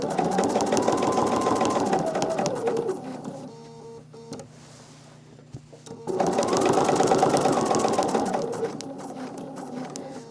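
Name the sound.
sewing machine quilting stitches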